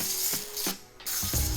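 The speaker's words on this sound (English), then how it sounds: "we are going to spray these down with a little bit of avocado oil" Avocado oil is sprayed onto chicken in an air fryer basket: three short, close hissing bursts separated by brief pauses.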